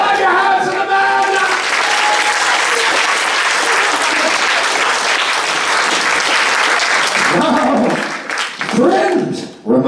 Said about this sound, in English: Clap your hands to the man!